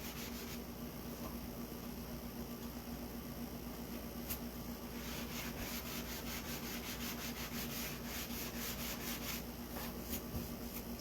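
Steady rubbing and scraping of sandpaper worked hard against a pizza pan being made into a door hanger, a continuous faint texture with rhythmic strokes growing more pronounced in the second half.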